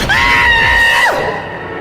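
A man in a horror story lets out a single loud, sustained scream that holds steady for about a second, then drops sharply in pitch and cuts off, leaving a faint lingering tail.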